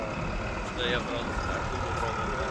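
A new SCOUT TD-1104C tractor engine drones loud and close in a steady, gritty roar, with people talking over it.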